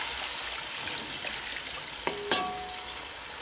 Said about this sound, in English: deglaze the bottom of your Dutch oven to get any of those little bits off the bottom